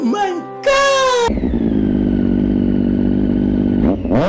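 A motorcycle being ridden while trying to dodge rain revs hard and then holds a loud, steady engine drone as it accelerates, with a brief rising whine at the start and a sharp change near the end.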